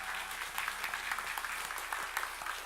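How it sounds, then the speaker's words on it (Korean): Church congregation applauding for the choir and a special performer at a Sunday service, a faint, even patter of many hands clapping with a low steady hum beneath. "우리 찬양대와 또 특순하신 분을 위해서 박수 한번 하십시다."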